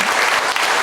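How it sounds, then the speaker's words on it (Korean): A church congregation at a Sunday service claps to welcome newly registered members, a dense burst of steady applause lasting under a second. "박수로 우리 환영하겠습니다"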